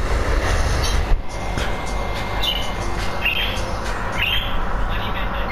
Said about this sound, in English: Tell your bird to shut the fuck up!